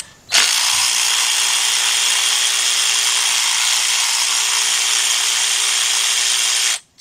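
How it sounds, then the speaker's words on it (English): A cordless ratchet with a shallow 10 millimeter socket on a 3/8 drive whirs loudly and steadily for about six seconds, removing a coil bolt from a GM V6 engine during timing chain work, then cuts off abruptly. "take your cordless ratchet with a shallow 10 millimeter socket, 3/8 drive"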